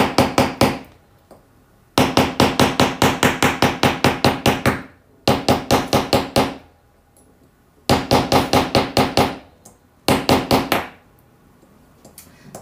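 Metal is struck in a dapping block during a cold enamel jewelry demo, giving rapid bursts of sharp, bright, ringing hammer blows. The bursts are close and loud, separated by short pauses, with no talking.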